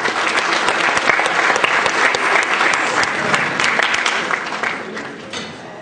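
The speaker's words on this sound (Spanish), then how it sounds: "Recibamos con un fuerte aplauso al doctor Stalin Atlas" A conference audience gives a speaker steady, dense applause from many hands that fills the room, then gradually thins out toward the end.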